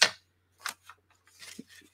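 Scissors cutting a scrap piece of paper at close range, a few short, crisp snips spaced unevenly in an otherwise quiet room.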